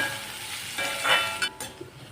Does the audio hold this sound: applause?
no